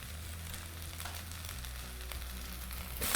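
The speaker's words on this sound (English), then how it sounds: "We're gonna saute all this together for just about another minute." Red pepper flakes and aromatics sauté in a pan for marinara, giving a soft, steady sizzle at moderate distance, with a brief louder scrape near the end.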